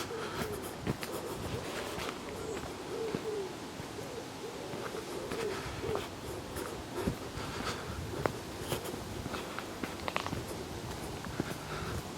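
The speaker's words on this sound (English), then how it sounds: "Hear those birds?" Birds calling in a forest, with soft hooting and cooing notes repeating over steady background rustle and a few faint footsteps on a track.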